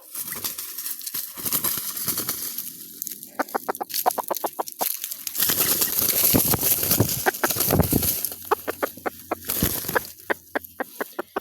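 A red junglefowl hen clucks in short, sharp bursts, pausing between runs of rapid clucks, close by, with other rustling and clatter around her.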